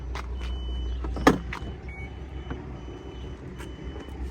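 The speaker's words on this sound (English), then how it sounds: "It's not pleasant how it like beeps at you constantly until you get it going." A public charging station for a GMC Hummer EV emits short, insistent electronic beeps at intervals, moderately close, over a low vehicle and outdoor hum with a few faint clicks.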